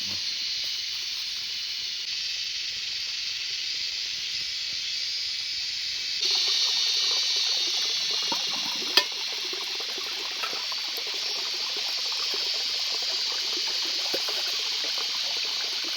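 Water heating in a pot on a portable gas canister stove outdoors in the jungle, a steady hiss that grows louder and rougher partway through, with faint bubbling and a single small tick, no voices.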